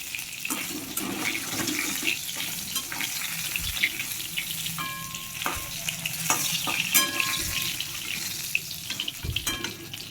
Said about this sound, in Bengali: মাছটা ভাজা এক পাশ হয়ে যাচ্ছে